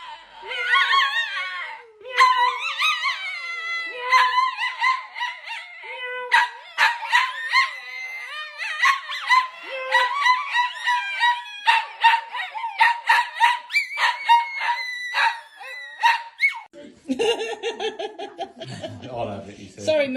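Dogs reacting to meowing with bursts of howls, yips and barks, a busy, irregular chorus with laughter and a deep voice near the end.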